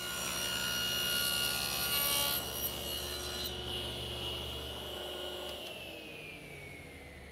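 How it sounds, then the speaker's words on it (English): A table saw with its blade tilted to the right finishes a bevel cut through wood. The loud whine rubs through the board, then the motor spins down and fades over several seconds. "You've just seen me make a bevel cut on our saw"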